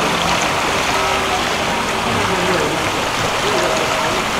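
Bubbling hot water churns steadily in a thermal pool at an outdoor bath, a loud, dense, continuous rush that fills the whole clip.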